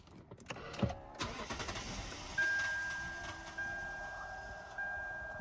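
A Lexus LS460 engine, just back together after a water pump replacement, cranks with a brief whir and catches, then settles into a steady idle. A thin whine and a low hum carry over the running engine.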